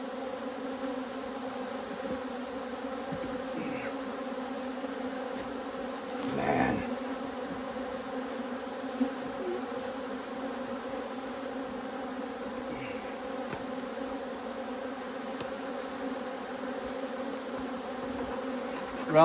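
Honey bees hum steadily around their hive, a dense, continuous buzz that holds level throughout with no breaks, a few individual bees briefly swelling closer now and then.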